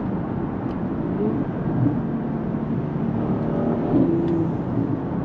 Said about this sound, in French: On entend également le turbo qui charge. Et avec l'échappement sport, ça fait vraiment de très jolis retours.